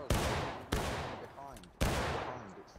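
Musket volleys in a multiplayer war video game, three sharp close shots spaced about a second apart, each with a long rolling decay, with a brief burst of voices between the second and third.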